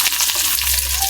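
Chopped garlic frying with dried and green chillies in a pan for salted hilsa bharta, giving a steady, close hiss and sizzle throughout with no talk.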